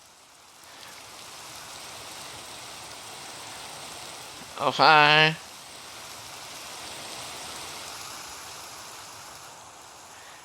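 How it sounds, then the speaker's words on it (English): Steady hiss of falling rain in Minecraft continues throughout, with a brief spoken word partway through. "You got the rain sound,"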